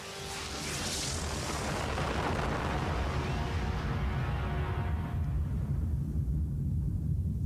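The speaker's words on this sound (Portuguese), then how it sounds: "No dia 16 de julho, acontece a primeira explosão atômica no deserto do Novo México." The first atomic bomb test in the New Mexico desert: a huge sustained roaring rumble that swells in and keeps booming deeply, a bright hiss fading out over several seconds.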